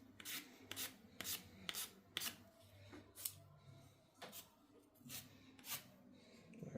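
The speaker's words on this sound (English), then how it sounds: "Can sand it down a bit." Light sandpaper strokes rub against a small wooden part of an HMS Endeavour ship model, a quiet, close series of short, regular rasping passes.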